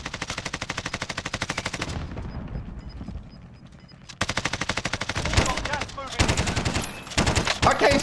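Sustained automatic gunfire in a first-person shooter game, fast rattling bursts that pause briefly and then resume, loud and close, with a player's voice talking over parts of it.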